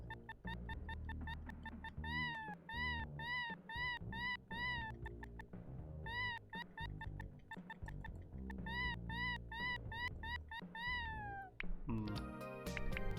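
In the video game Plumbers Don't Wear Ties, a cat's meow plays again and again in rapid runs of short, wavering calls with brief pauses between clusters, over a constant low background.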